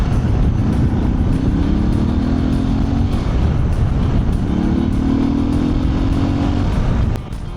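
A Suzuki DR 650 motorcycle engine chugs on the road while riding, with a loud, steady low rumble and two rising pulls of engine note that swell and fade back before the level drops at the end.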